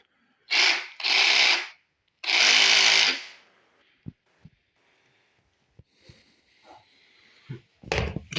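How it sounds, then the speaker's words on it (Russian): A power tool cuts drywall in a wall to make way for a fireplace chimney. Three loud, harsh bursts come close together, then scattered sharp clicks and a thin, steady whine, with no speech. "Сейчас будем пилить гипсокартон в стену."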